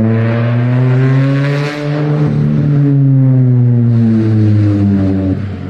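A Ford Fiesta ST engine pulls hard and loud, its tone climbing steadily through the revs, with a brief dip like a gear change before it rises again, heard close and alone.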